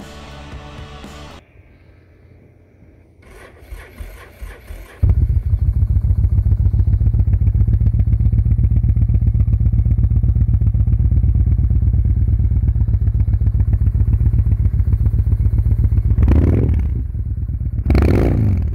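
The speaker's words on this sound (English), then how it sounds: "can a motorcycle start in 1 degree weather?" Mechanical clattering and cranking, then a motorcycle engine starting in very cold weather catches and settles into a loud, steady idle with a rapid rhythmic putter, briefly revving near the end.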